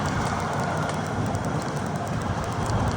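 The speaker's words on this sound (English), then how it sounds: "There goes the commuter train." A commuter train rumbles past steadily at moderate distance, a continuous rolling rail roar with faint clatter, heard alone without talk.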